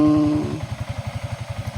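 A Yamaha Sniper 155 motorcycle engine rings with a brief high rev that drops, then settles into a rapid, even pulsing idle, close and moderately loud with no talk.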